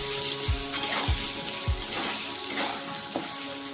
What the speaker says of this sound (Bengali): দিয়ে দেব 1 চামচ নুন, 1 চামচ হলুদ গুঁড়ো দিয়ে আলুগুলো ভালো করে ভেজে নেব